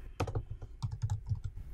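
A server address being typed on a computer keyboard, quick irregular bursts of close key clicks with short pauses between them, no talking.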